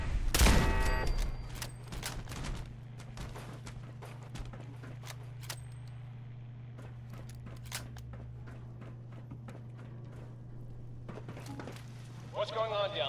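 Rapid turret gunfire in a first-person shooter video game, a burst of loud automatic shots at the start, then a steady low hum with scattered faint clicks and a short rattling burst near the end.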